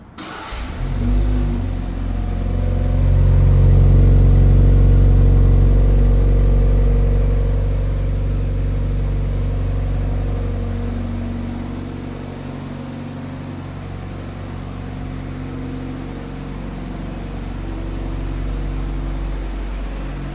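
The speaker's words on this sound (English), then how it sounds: "And we'll do another 1, 2, 3 again to shut off the remote engine start." A 2026 BMW 430i xDrive Gran Coupe idles steadily after a remote start, a deep low engine hum that swells briefly near the start, then settles into a smooth, constant near idle with no talking.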